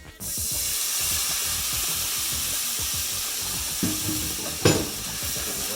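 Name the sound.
white wine deglazing hot pan, sizzling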